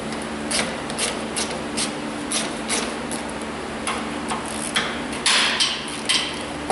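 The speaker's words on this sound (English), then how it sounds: "we're going to use a 10mm socket and ratchet and remove the battery hold down" A 10mm socket and ratchet loosening the battery hold-down on a Toyota Corolla, heard as a run of close, short clicks and scraping metal taps spread irregularly over a steady faint background hum.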